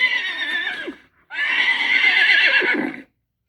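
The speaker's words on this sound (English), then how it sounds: "This is a horse." A horse neighs and whinnies as played from a Google Assistant smart speaker, two loud, close calls separated by a short pause, with no talking over them.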